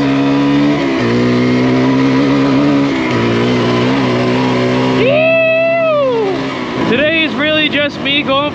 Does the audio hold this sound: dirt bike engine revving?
yes